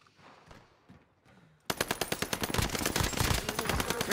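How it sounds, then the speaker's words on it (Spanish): Rapid automatic gunfire in the video game Call of Duty: Vanguard bursts in loud and close after a quieter stretch of faint ambient battle noise, with dense, evenly spaced shots continuing to the end. "¡Me están disparando!"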